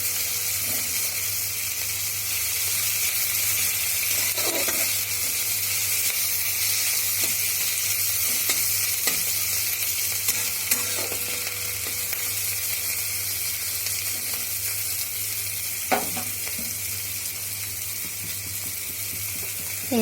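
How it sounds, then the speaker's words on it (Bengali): Salted onions frying in a pan, a continuous close sizzle and hiss with a few faint stirring scrapes and clicks throughout, no voices. "পেঁয়াজটা জলদি ফ্রাই হয়ে যাবে, তাই না? এটাকে এভাবে ভেজে নিই।"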